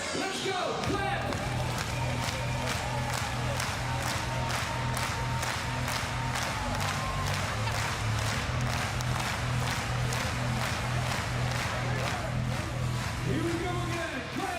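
Arena crowd at the Invictus Games 2023 in Düsseldorf claps in steady rhythmic unison and cheers, loud and continuous throughout, with pulsing music underneath and an announcer's voice heard at the start and end.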